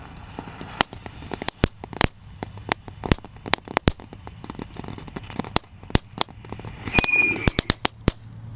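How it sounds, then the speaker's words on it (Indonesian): A "Thor" tank firecracker goes off inside a hole in the ground, giving a string of sharp, loud, irregular bangs and cracks over roughly eight seconds, with a brief hiss partway through. "Mercon tank Thor di dalam tanah bosku."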